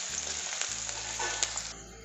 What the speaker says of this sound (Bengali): তেল গরম হলে এর মধ্যে আমি দিয়ে দিচ্ছি 2টো মিডিয়াম সাইজের পেঁয়াজ কুচি।